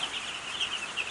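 Chickens on a hobby farm cluck softly and continuously, a short burst of close, moderately loud fowl chatter with no voices.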